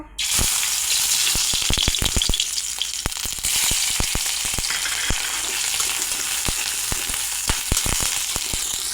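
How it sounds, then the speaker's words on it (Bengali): Prawns fry in hot mustard oil in a kadai with a loud continuous sizzle and crackle, punctuated by sharp clicks of stirring throughout. "চিংড়ি মাছটা ভেজে নিয়েছি"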